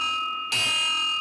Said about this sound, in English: I too would like to ring the bell for